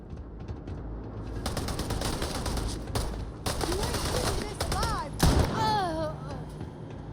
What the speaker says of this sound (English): I like this little shotgun.